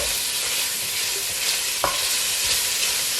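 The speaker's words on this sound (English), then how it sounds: "Make sure you stir them around so they don't burn. We're not cooking these, we're just browning them." Andouille sausage browning in a pot gives off a steady broadband sizzle, with occasional scraping stirs and one sharp utensil knock partway through, close and moderately loud, no talking.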